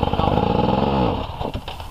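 Hard enduro motorcycle engine labouring as the rider stands on the pegs and climbs uphill, a steady loud drone that fades toward the end.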